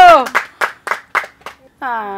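A handful of rhythmic hand claps at a family birthday party, five or six distinct sharp claps at a steady beat, close by, framed by excited voices calling out before and after.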